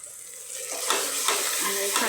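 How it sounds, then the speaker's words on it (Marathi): Egg biryani masala with a couple of spoonfuls of fresh yogurt stirred in a pan, a steady wet sizzle with scraping strokes swelling now and then, close and fairly loud, with no talking. "आणि सारखं हलवून घेऊया."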